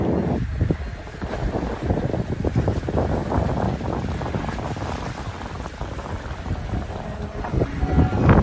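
Evening breeze rushes past a racing sailboat at sea, a steady loud gusting roar buffeting the microphone with water swishing along the hull throughout.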